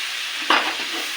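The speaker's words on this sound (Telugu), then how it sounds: "ఇందులో టమాటాలు వేస్తాం." Tomatoes dropped into a hot frying pan for a potato, egg and drumstick curry set off a quick burst of sizzling that fades into a softer, steady frying hiss.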